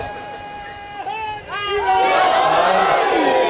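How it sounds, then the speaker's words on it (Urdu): A large crowd gathered in a marquee for a Shia majlis-e-aza and matam in Khan Garh, Muzaffargarh, roars a loud, sustained chanted response to a leader's slogan, building from a single voice into a massed swell. "ماشاءاللہ یہ بڑا تگڑا جواب آیا. پورا پنڈال گونجا ہے آپ کی آوازوں سے"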